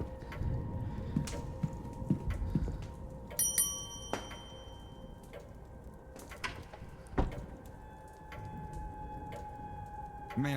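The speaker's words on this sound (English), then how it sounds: "If you need assistance, you can ring the bell in the" A lobby bell rings in the video game The Seance of Blake Manor, a short bright chime rising over quiet ambient room tone and scattered clicks.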